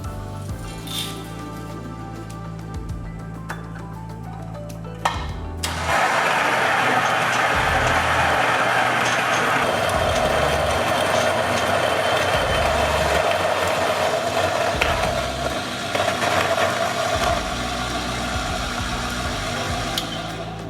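Breville Infuser burr grinder grinding coffee beans: a loud, steady whirring grind that starts abruptly about five seconds in after a low hum and continues without a break to the end, with no talking.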